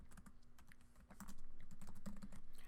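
Close, quick clicking of computer keyboard keys as a link name is typed, heard over a steady low hum.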